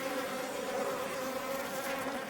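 Apis cerana indica honey bees swarming an open feeding station in Himachal Pradesh, a dense continuous buzzing hum, steady and close, with no voices.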